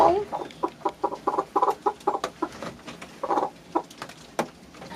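Backyard hens cluck in a rapid rhythmic series of short, close clucks, loud and repeated, trailing off into a few scattered clucks.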